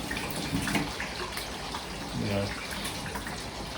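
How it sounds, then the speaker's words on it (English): A kitchen tap runs in a steady rushing stream while hands are rinsed under it, close and fairly constant, with brief murmurs of a voice in the background. "I'm just going to rinse my hands"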